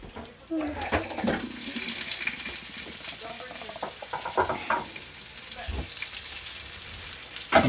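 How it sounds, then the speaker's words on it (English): Steady crackling sizzle of food deep frying in hot oil, with occasional clinks and movement, continuing throughout at moderate level. "Uppopoisto is when you cover them in oil. It's deep frying."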